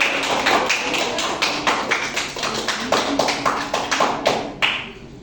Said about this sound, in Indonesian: mari kita beri aplaus kepada kelompok 1